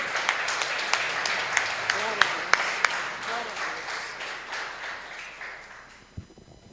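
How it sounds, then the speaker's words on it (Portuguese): A church congregation at a Friday evening service applauds, crowd clapping with a few sharp, distinct claps standing out near the front, tapering off toward the end as a voice begins. "Vamos aplaudir o Senhor mais uma vez?"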